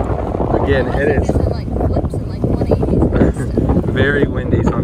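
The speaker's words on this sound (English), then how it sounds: "very windy, so I'm trying to block the wind, so sorry if it's loud" Loud wind buffets the microphone at a Florida beach park where kitesurfers ride, heavy low rumbling gusts with a voice talking over it.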